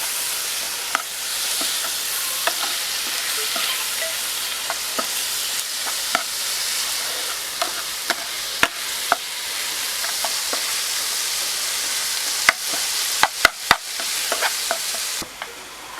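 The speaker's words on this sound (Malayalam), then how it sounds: "പിന്നെ ഇതിലേക്ക് ഇനി നമ്മുടെ തക്കാളി ആഡ് ചെയ്യാണ്." Tomatoes sauté in a pan with a steady close sizzle, broken by frequent sharp scrapes and clicks of a spatula stirring against the pan, with no talk.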